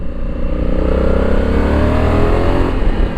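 A 2020 Honda Africa Twin Adventure Sports CRF1100 with its 1100cc parallel-twin engine pulls away under steady, loud acceleration, a continuous close engine drone rising in pitch over three seconds.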